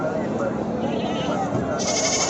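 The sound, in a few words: goats bleating at the Samayapuram goat market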